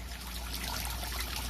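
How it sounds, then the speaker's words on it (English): A POPOSOAP 12W solar water fountain runs in a backyard, its water trickling down like a small waterfall. The trickle is soft and steady, with a low pump hum underneath. "the water will slowly trickle down like a waterfall"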